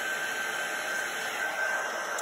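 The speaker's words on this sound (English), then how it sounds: "you're just going to move the heat gun over the image like so" A heat gun blows steadily close by while melting embossing powder on a stamped card, a constant whooshing hiss with a faint high whine and no pauses.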